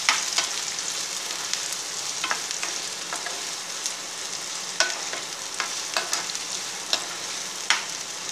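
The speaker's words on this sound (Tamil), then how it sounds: "இப்போ வந்து ஆனியன் போட்டோம், சில்லியும் போட்டோம். கொஞ்ச நேரம் ஃப்ரை பண்ணிக்குவோம்." Onion and chilli sizzle steadily in hot oil in a Tamil home kitchen while chilli chapathi is cooked, a close hissing fry broken by sharp crackles and pops, with no voices.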